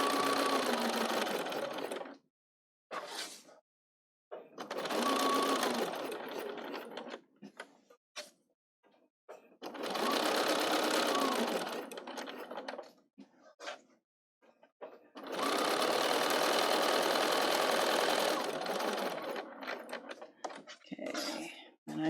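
A Bernina 770 sewing machine stitches across the edges of a Tula Pink bag in four separate bursts of steady, rapid mechanical whirring, each lasting a few seconds, with short pauses of quiet handling between them.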